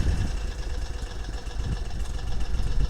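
An engine settles into a steady idle after a choke-assisted start, its low rumble continuous and close, with a faint mechanical whine above and no talking.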